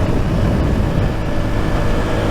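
A Yamaha MT 125 motorcycle with a Minarelli engine riding along, a loud, steady roar of engine and wind rush with no breaks or voices.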